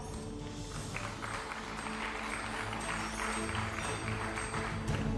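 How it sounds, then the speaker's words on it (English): Sustained audience applause fills a hall at the Storyboard18 Global Pioneers Summit 2025, a steady dense wash of many hands clapping at close to moderate distance, with no voices on top. "once again, a huge round of applause"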